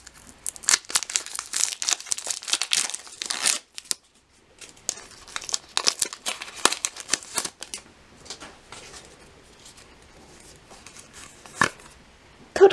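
A Pokémon card booster pack is opened: bursts of crinkling foil wrapper and ripping close to the mic, broken by short pauses and scattered sharp crackles.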